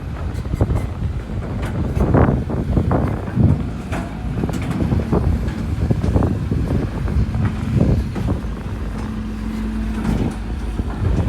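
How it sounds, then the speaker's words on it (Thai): Strong, steady wind buffeting the microphone at an excavator and dump truck worksite, a continuous roaring rumble with gusty swells and no voices. "ค่อนข้างลมครับค่อนข้างลม"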